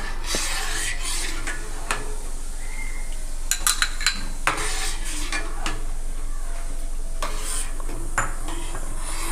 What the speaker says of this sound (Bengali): দিয়ে আমি দুধটা নাড়তেই থাকবো